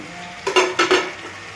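A metal lid clatters onto a pot in two quick clanks, close and bright, over a faint background sizzle with no speech.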